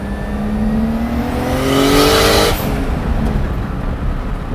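BMW 2002 with a swapped E30 engine and turbo accelerating hard, a loud sustained engine note climbing in pitch for over two seconds before a sharp lift-off, then steady running noise.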